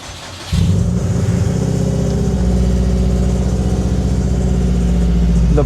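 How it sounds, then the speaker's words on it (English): An old $1900 winter car cranks briefly and catches, its engine settling into a loud, steady idle with a low throbbing rumble that continues close up to the end, no one talking. "So let's start her up and see what she says."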